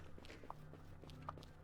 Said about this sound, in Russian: Я слышу эти каблуки.